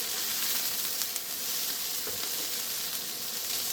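Mince browns in a pan for spaghetti Bolognese, giving off a steady, dense sizzle and crackle with a few sharper pops, close and constant throughout with no voices.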